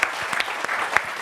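A television studio audience on a French football talk show claps to welcome a youth team coach as a guest, producing a short, steady burst of applause with a few sharper individual claps standing out.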